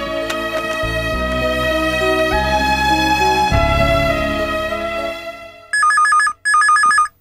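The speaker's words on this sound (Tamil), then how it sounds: "கிச்சா ஃபோன் எடு." Telephone rings in a Tamil TV serial scene: electronic ringtone with two loud bursts of repeated trilling tones following a melodic musical passage.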